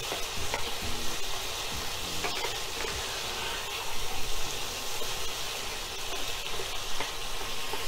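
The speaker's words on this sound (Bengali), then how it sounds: "নুন হলুদ দিয়ে আমি মাছটা একটু ভেজে নেব।" Prawns seasoned with salt and turmeric paste fry in hot oil with a loud, dense, continuous sizzle close to the microphone, with occasional stirring and scraping in the pan and no voices.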